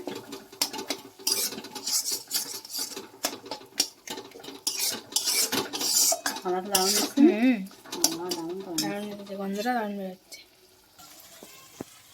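Paste of cashew, melon seed and poppy seed being stirred in a pan for paneer pasanda, with metal utensil clinks and scraping over light sizzling; background music plays in the latter half.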